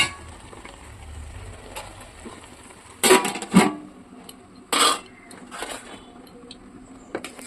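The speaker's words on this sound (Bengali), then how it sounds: "তো খুন্তিটা সরিয়ে নিই" Spatula and lid knocking against a frying pan while pakoras fry in oil: a few sharp metallic clatters in quick succession, close by, with quiet gaps around them.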